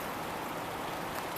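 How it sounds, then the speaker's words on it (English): Steady rain pours down outdoors as a dense, even hiss of drops with no pauses, close and continuous with no voices. "but it is definitely raining"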